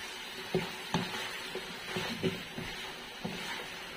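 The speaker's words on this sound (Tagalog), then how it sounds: "Ngayon, haluin ulit natin." Batangas-style goat kaldereta stew being stirred in a pot, with a series of spaced clanks and scrapes of a utensil against the pot over a low simmering sizzle and no talking.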